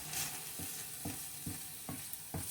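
Sausage fries in a skillet with a steady low sizzle, broken by several soft rhythmic scraping thumps as the pieces are stirred, with no talking.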